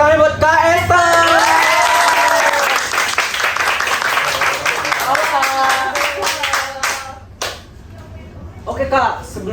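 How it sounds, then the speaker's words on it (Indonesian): Audience applause at a school Indonesian-language class talk show, a dense burst of clapping running through most of the stretch under cheerful overlapping voices and whoops, thinning out near the end. "tepuk tangan buat Kak Esther"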